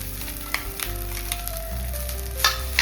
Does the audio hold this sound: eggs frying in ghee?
yes